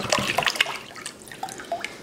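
Spring water pours and splashes into a large mead-making container, a busy close splashing burst that settles into scattered drips and gurgles.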